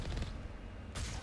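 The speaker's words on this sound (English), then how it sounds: "Alliance heavy turrets." Heavy Alliance turrets in the video game Mass Effect pound out rapid booming shots, a burst at the start and another at the end with a rumbling lull between.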